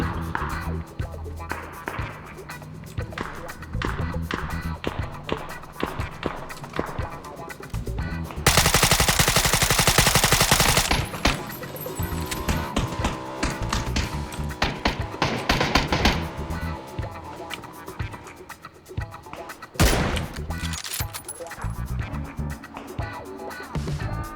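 Rapid automatic gunfire in the battle royale game PUBG, loud bursts of shots in dense runs with one sustained roaring stretch midway, and voice chatter faintly in the mix.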